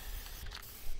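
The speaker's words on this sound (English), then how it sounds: "To protect the veneer, I'm applying a few coats of a quick drying matte finish spray on clear coat." Short hissing burst of quick-drying matte clear coat sprayed from an aerosol can onto wood veneer, close and fairly quiet.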